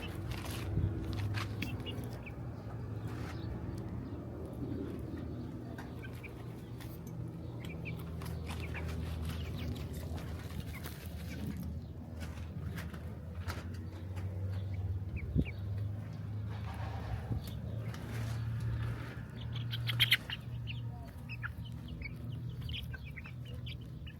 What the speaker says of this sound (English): Birds, you gotta love them.